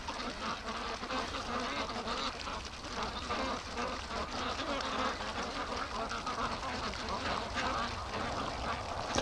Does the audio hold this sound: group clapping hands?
no